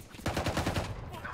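Frenzy pistol firing in Valorant, a quick burst of about eight rapid shots in a tight rhythm, moderately loud and alone.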